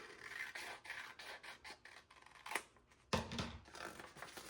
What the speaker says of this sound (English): all I have to do is cut this out